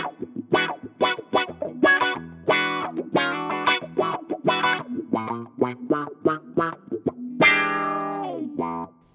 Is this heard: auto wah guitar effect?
yes